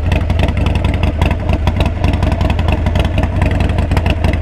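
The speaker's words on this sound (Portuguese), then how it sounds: "O motorzão funcionando. Olha tudo que ele treme." Harley-Davidson Sportster 1200cc motorcycle engine running close by, a loud, lumpy, pulsing idle with rapid uneven beats throughout, heavy and rumbling with no talk over it.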